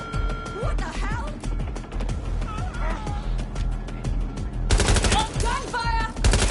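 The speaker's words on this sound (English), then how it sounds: "Gunfire!" Rapid bursts of game gunfire crackle through a busy, noisy mix, growing denser and louder near the end.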